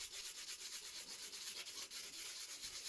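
Sandpaper rubs over charcoal to make dust for a drawing, producing fast, even rasping strokes in a close, steady rhythm.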